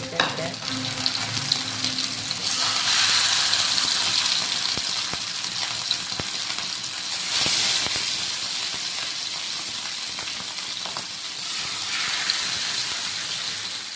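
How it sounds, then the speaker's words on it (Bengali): Marinated fish fries in a pan with a loud, steady sizzle and hiss that swells briefly at moments, close up and without talk. "এই যে আমি মাছটা আধা ঘন্টা ম্যারিনেট করে রাখার পরে এখন ভাইজা নিব"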